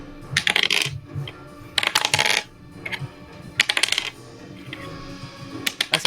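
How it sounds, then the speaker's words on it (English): Several bursts of many dice clattering and rolling across a table during a tabletop role-playing game damage roll, sharp rattling clusters repeating over several seconds, fairly close with no talking. "That's a lot of dice."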